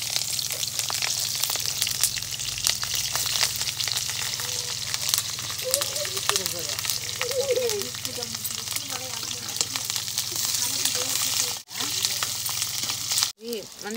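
Dried red chillies frying in hot oil for a village-style coriander chutney, a loud steady sizzle and crackle that runs throughout, with brief stirring scrapes near the end.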